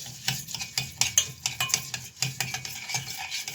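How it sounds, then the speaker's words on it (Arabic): Chicken pieces fry in a pan and get turned over and over with a utensil, sharp scraping clacks landing in an irregular rhythm above a soft sizzle. "هفضل اقلب فيهم لحد ما يحمروا"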